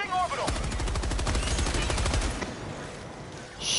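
Rapid automatic gunfire rattles in a fast burst in a shooter video game, moderately loud over game sounds, then tapers off.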